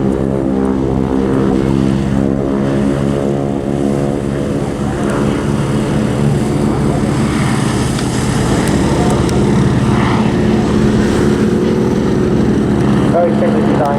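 A propeller aircraft flies at the Southport Airshow, its steady, loud engine drone and layered prop harmonics holding for the whole stretch, with a faint swell in the latter half.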